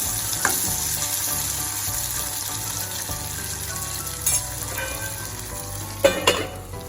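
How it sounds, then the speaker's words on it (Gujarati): Sev tameta curry sizzles steadily in a pan while it is stirred. A few clinks and scrapes of the spoon stand out against the frying. "આપણે વચ્ચે વચ્ચે થોડું હલાવતું રહેવાનું છે"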